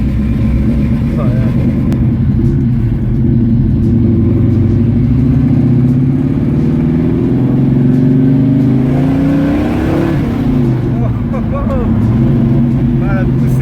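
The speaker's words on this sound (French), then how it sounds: "On a déjà la sonorité énorme du V8." A loud, deep V8 engine roar builds steadily as a Shelby GT500 tribute with a manual gearbox accelerates, with a rumbling low tone that rises in pitch, heard from inside the car.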